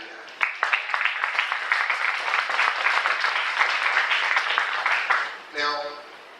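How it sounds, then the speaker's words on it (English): A room of people clapping during a talk on diversity and inclusion in Richmond, steady applause for about five seconds that cuts off, followed by a brief voice. "let's give a round of applause for that idea"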